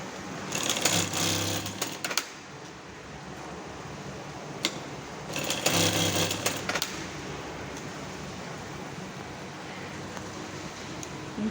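A sewing machine topstitches the sides of a two-seat backrest cushion using a smaller presser guide. Two louder bursts of stitching rise over a steady mechanical hum. No one speaks.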